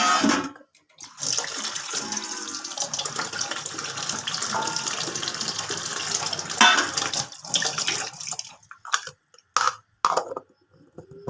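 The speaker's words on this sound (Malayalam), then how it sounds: "വെള്ളം ഒഴിച്ച് അരയ്ക്കാം" Water pours steadily for several seconds with a broad splashing rush, then breaks into a few short gushes and stops, as water is added to ingredients for grinding.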